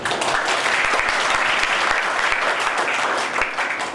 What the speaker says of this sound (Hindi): आपके लिए तालियां बनती है